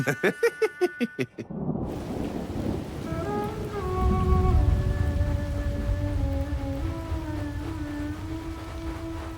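Steady rain pours down with a low, rolling rumble of thunder underneath in the animated film Thomas & Friends: Big World! Big Adventures!, while a few tonal notes drift in and out over the storm.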